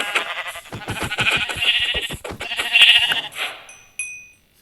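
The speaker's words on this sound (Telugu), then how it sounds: "చూసారా, మన కోసం ఇక్కడ గొర్రె వెయిట్ చేస్తుంది." A Minecraft sheep bleats in a quick run of repeated, loud, close wavering calls, followed by a brief electronic game tone near the end.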